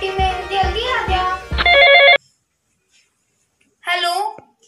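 A telephone rings with a bright, repeated electronic tone at the start of a call, sounding loud and close for about two seconds under a girl's speech, then cutting off before a short silence and a voice answering.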